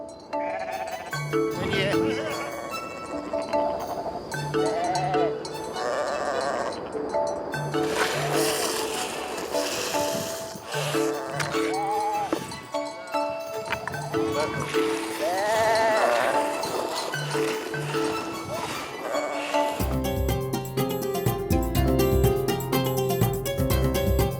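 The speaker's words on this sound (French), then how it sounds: "Les brebis sont alignées tête bêche." Ewes lined up head-to-tail for milking in the mountains of northern Lebanon bleat repeatedly, with loud, close, overlapping wavering calls from several animals over a steady background noise, and a denser din in the final seconds.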